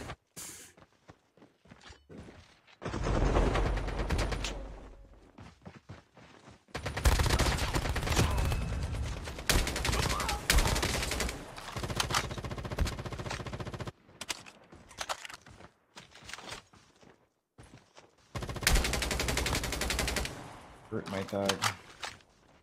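Gunfire in the mobile shooter game Call of Duty Mobile comes as loud, dense bursts of rapid shots separated by brief quieter gaps, close and sharp throughout.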